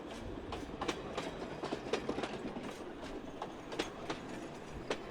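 A mountain railway train in Taiwan rolls along the tracks with a steady rumble and rhythmic clickety-clack of wheels over rail joints, heard at a moderate distance without voices.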